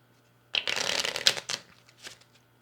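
A deck of cards riffle-shuffled once up close, a quick crisp fluttering burst lasting about a second, followed by a soft tap as the cards settle.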